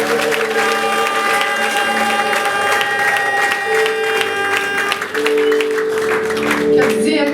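A church congregation claps and cheers, with high sustained tones and a voice over the crowd, loud and continuous from a close position.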